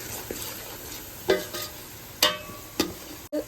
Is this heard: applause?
no